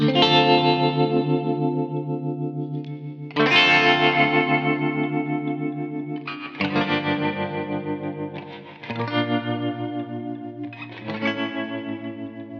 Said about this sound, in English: just play the chords just so you can hear them lovely bridge pickup tones on this guitar